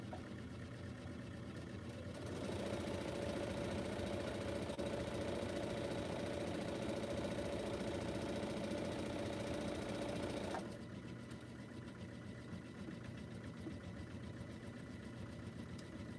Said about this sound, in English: Maybe I'll sew a row or two together with the sashing.